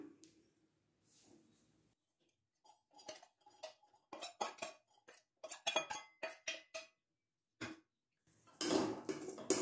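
Chopped pirandai (adamant creeper) and sautéed onion being dropped and scraped into a mixer jar for chutney, a run of short close clinks and knocks of spoon on metal, ending in a louder rattling burst.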